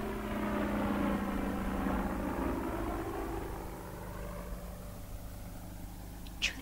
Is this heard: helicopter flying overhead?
yes